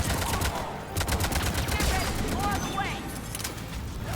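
Hijacked engineer turrets in Mass Effect 3 multiplayer fire in rapid, dense bursts, a loud continuous rattle of gunfire mixed with whooshing weapon effects and chirping electronic tones.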